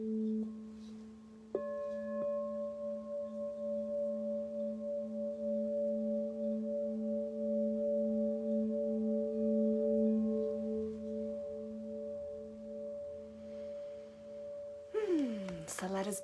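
A mini crystal singing bowl rings out in long, pure sustained tones, a second strike adding a higher shimmering layer; the notes hold steady and clear for many seconds before a brief sliding, rustling sound near the end.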